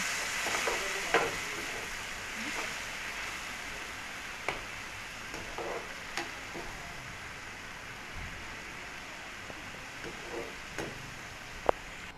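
A soft, steady sizzle of frying in a pan, broken by occasional light clicks and taps from a utensil, with no talking.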